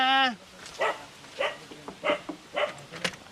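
A puppy gives a series of short yips and barks, about five spaced evenly across a few seconds at moderate loudness, with no talking.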